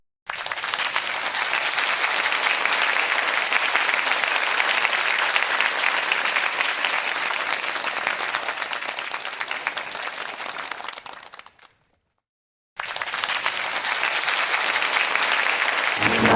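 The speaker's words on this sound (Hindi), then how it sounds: "ज़ोरदार तालियां बजाएंगे।" Children and a congregation at a Mother's Day church celebration in Pakistan clap loudly in sustained applause, which fades out, falls silent for a moment, and then starts up again.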